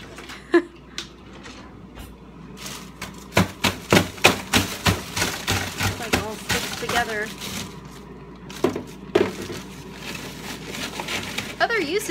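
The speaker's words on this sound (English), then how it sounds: "Other uses for a knife sharpener, right? You can break ice with it." Ice being stabbed and broken with a knife sharpener in a kitchen while making bubble boba tea, giving a run of sharp cracking, crunching hits, several clustered quickly, with a few scattered knocks before and after.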